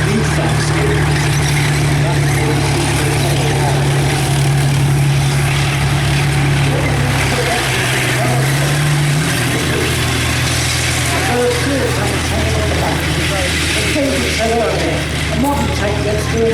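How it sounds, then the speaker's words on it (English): Challenger 1 tank driving around at Tankfest, its engine a steady low rumbling drone that runs throughout, with a shift in tone partway through and people talking over it. "when you look at our Challenger 1 driving around"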